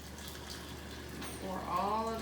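Freshly boiled tea poured from a pot over sugar for Southern sweet tea, a steady liquid splash that rises and grows fuller toward the end, with a voice murmuring underneath.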